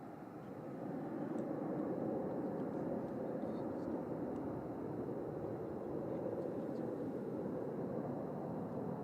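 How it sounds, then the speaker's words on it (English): An Airbus A380 taxiing out for departure at Manchester Airport, a steady broadband jet engine roar holding at constant moderate loudness throughout, heard from a distance with no clear rise or fall. "A380 that we saw come in earlier on in the stream here, just taxiing out along taxiway Alpha for departure from Alpha 1"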